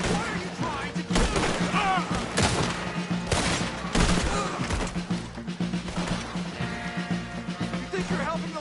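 Gunfire rattles through a battle with cannon fire in Red Dead Redemption 2, a dense, loud fusillade of overlapping shots with sharp bursts that continue without pause.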